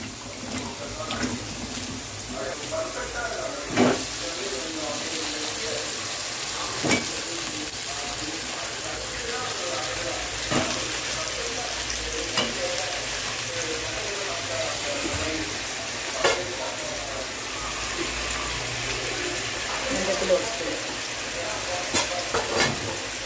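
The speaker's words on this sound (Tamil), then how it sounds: "கொஞ்சம் காய்க்கு உப்பு, எண்ணெயிலே கொஞ்சம் வதங்கணும்" About half a kilo of brinjal sautés in hot oil with salt, ginger and garlic for kara kulambu, giving a steady close sizzle broken by regular scrapes and clinks of a stirring spoon.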